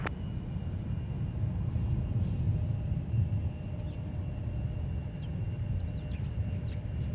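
Airplane taking off from runway 17 at Minneapolis–St. Paul airport, a steady low engine roar and rumble heard from a distance and holding throughout, with no talk.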